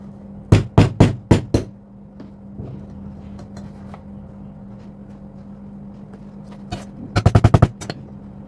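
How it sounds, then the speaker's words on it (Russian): Small hammers tap on little stones in a quick run of sharp, close clicks, then a long quiet stretch with a few scattered knocks, then a fast final burst of taps. "что-то у меня не очень-то хорошо молоточками получалось"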